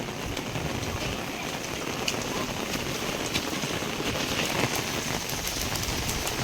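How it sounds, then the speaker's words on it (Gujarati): Heavy monsoon rain pours down steadily over a village, a dense and constant roar of drops hitting surfaces with some wind buffeting the microphone and no voices. "વરસાદના ફૂલ બંબા પડે છે"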